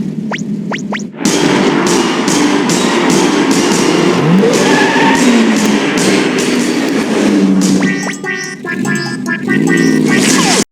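Engine whine, skids and cartoonish effects from the Square PlayStation kart racing game Chocobo Racing play loud and continuous, with a burst of chirpy, stuttering effects near the end.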